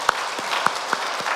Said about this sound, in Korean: 우리 큰 박수로 한번 감사의 마음을 전하겠습니다.